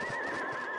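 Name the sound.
horse whinny in radio drama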